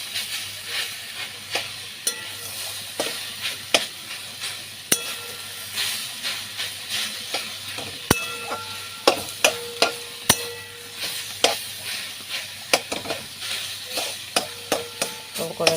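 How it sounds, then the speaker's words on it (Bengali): Shushni greens fry in a pan under a low, steady sizzle while a spatula taps and scrapes against the metal in a fairly regular rhythm of close clicks throughout. "এরকম করে নাড়িয়ে চাড়িয়ে একে ভাজতে হবে"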